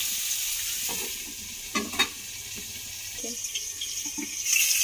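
Cauliflower sizzles in a pan with a constant close hiss, broken by a few clattering stirs and utensil knocks near the middle and a brighter surge of sizzling at the end.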